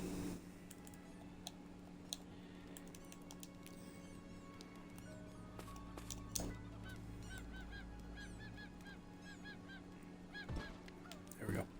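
Chickens in the video game Craftopia cluck and honk faintly in a series of short calls, mixed with quiet game ambience and soft keyboard clicking.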